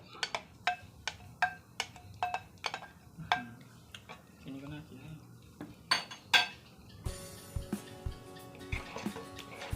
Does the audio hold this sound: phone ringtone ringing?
no